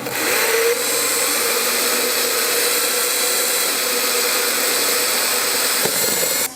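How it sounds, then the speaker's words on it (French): A power drill with a wood bit boring into a wooden baseboard, a loud, steady high whine that holds nearly unchanged for several seconds before cutting off. "Donc je commence par percer la plinthe"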